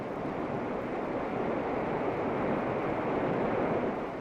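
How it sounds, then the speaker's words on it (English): The Merced River roars through a narrow granite channel below Nevada Fall in Yosemite, a steady broadband rush of white water heard at a distance, even and unbroken for a few seconds. "the Merced River roars onward to the granite lip of Vernal Fall"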